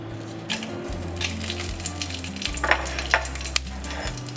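Panch phoron and dried red chillies crackle and sizzle in a little hot oil for a Bengali puti fish tok, a steady frying hiss with sharp pops and stirring clicks, close and without talk.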